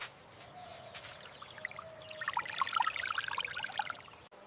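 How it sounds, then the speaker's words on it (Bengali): Water is drawn up by hand from a hole dug in riverside sand in a wild setting, giving faint scooping sounds followed by a soft, close trickle and splashing pour, with no speech. "বালি খুঁড়ে জল বার করছি, আর সেই স্বচ্ছ জল খাবো আমি।"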